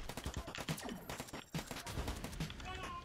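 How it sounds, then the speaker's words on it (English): Video game gunfire, a string of sharp shots and bursts crackling throughout, fairly quiet and mixed with other game sounds. "They're shooting me."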